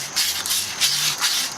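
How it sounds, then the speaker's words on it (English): Fine sandpaper rubbed back and forth over a wheel hub during a 2016 Nissan Maxima hub and bearing replacement, a steady raspy scraping in three close, fairly loud strokes with no talk. "This is sandpaper. Fine."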